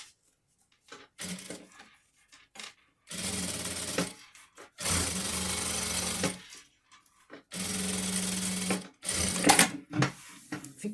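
A sewing machine stitches a fleece sweatshirt with a presser foot, running in four close, loud bursts of rapid whirring separated by pauses and small handling noises.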